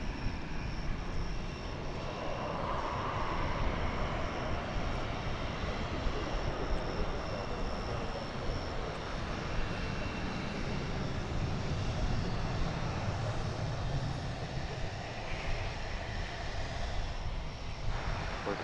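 Aircraft engines roar continuously at DFW Airport, a broad steady rumble from planes heard at a distance throughout.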